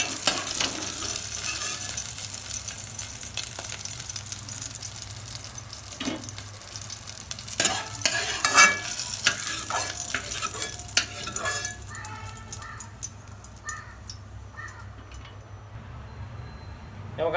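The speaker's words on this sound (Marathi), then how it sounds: "हे बघा कांदा बी भाजून घ्यायचा चांगला" Onion roasting in a pan, sizzling and crackling with scraping and stirring clatter that gets busier midway, then settles to a quieter hiss with small pops toward the end.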